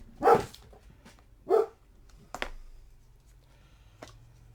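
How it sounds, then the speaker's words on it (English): A pet dog barks at a delivery at a garage across the street, giving two distinct barks followed by a couple of fainter sharp sounds, a little distant and indoors. "my dog does not like the delivery guy"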